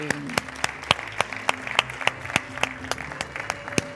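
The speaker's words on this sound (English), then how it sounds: "Please, a round of applause." Sharp, rhythmic clapping from an audience, steady and fairly close, with bright individual claps standing out over a fuller wash of applause.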